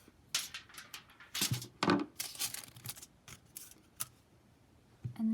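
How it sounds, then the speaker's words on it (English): Scissors cut through a length of tin foil in a few crisp, close snips and crinkles, spread unevenly over several seconds with short quiet gaps and no talking. "I don't need this whole length of tin foil, so I'm going to cut it in half."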